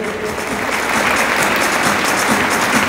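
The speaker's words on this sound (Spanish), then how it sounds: "Un fuerte aplauso también para ellos" Dense, steady applause from a crowd at a presentation of sponsors and collaborators fills the clip, a continuous wash of clapping without a break.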